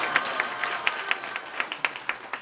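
Sparse, light clapping from a small audience at a Korean meeting with homelessness activists, a few distinct claps at an uneven rhythm, fairly quiet and alone with no talk over it.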